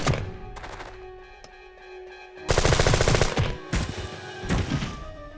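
A heavy, long-range G41 rifle fires in Jagged Alliance 2: a short opening shot, then rapid bursts of loud, closely spaced shots with metallic mechanism clicks between them.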